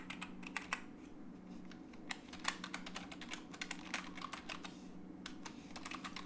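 Python code being typed on a computer keyboard, a close run of quick uneven clicking keystrokes with brief pauses, over a faint steady hum, with no talking.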